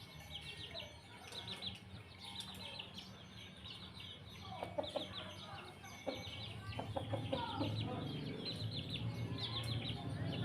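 Clucking and soft calls from a free-ranging Burmese fighting rooster in a rural village yard, fairly faint and irregular, with other birds chirping and low background noise that grows busier toward the end.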